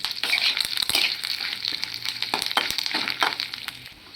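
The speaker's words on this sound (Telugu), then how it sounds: "ఇప్పుడైతే మిరపకాయలు చూసారా ఇలా వేయించుకోండి" Red chillies for gongura chutney fry in a hot pan, giving a close, crackling sizzle with uneven pops and scrapes throughout.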